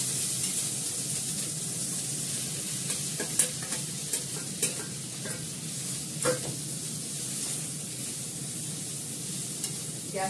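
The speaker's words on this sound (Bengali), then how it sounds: "এবার চিড়েটা দিয়ে দেবো।" Thin flattened rice stirred in a pan over low gas, a quiet continuous sizzle with light scraping and clicking of the spatula.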